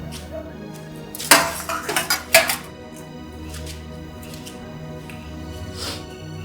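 Steel dishes and utensils are gathered up in a home kitchen, a burst of clattering and clinking metal lasting about a second and a half, close and loud over a quiet room.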